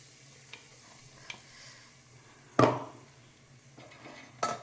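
Spice powder dropped into hot oil for tempering a homemade tomato thokku, a loud sizzling burst in the middle with a few quieter utensil clinks and stirring sounds before and after.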